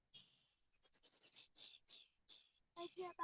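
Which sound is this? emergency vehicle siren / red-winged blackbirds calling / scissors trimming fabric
red-winged blackbirds calling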